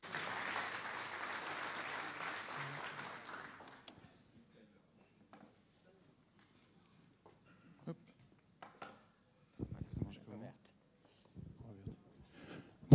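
A Synology conference audience in 2019 claps in a full burst of applause for about four seconds. It then drops to near silence with scattered small knocks and handling noises.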